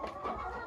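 Clucking from a backyard flock of hens, young red cockerels and a rooster, a dense continuous chatter of overlapping close calls with no voices.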